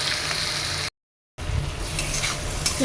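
Spices with salt, turmeric, dried chili powder and sweet cumin powder frying in a home kitchen pan, a steady moderate sizzle with stirring scrapes, briefly cut to silence midway before resuming.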